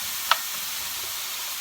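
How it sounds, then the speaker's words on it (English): Green pepper and onion sauté in a pan with a steady, close hissing sizzle and a single sharp utensil tick near the start, with no voice. "saute this and get it a little soft and translucent"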